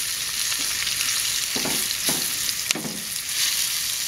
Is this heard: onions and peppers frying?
yes